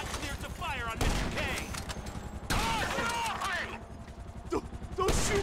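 Rapid gunfire bursts from a GTA 5 shootout crack over a dense game soundtrack, with metallic clanks and whooshing effects, while voices shout intermittently through the action.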